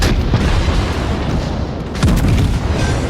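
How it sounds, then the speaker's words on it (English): Battleship main guns from a USS Massachusetts firing in World of Warships, heavy deep booms with a sharp new blast about two thirds through, rumbling on loudly beneath the game's ongoing noise. "fire the main guns into the Baltimore and finish him off too"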